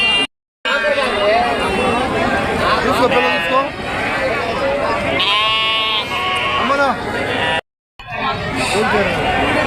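Sheep and lambs bleat repeatedly at a crowded sheep and goat market, several wavering calls rising over a constant background of people chattering, with two brief silent gaps.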